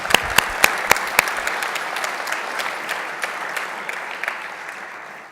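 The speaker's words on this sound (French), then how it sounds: "Je vous applaudis." An audience claps at a New Year's civic greeting ceremony in Le Perreux-sur-Marne: a dense, sustained round of applause with a few sharp claps up front, holding steady and then slowly fading.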